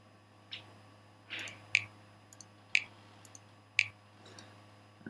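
Sharp car clicks recorded as a music effect, four or five distinct ticks spaced about a second apart, fairly faint over a low steady hum.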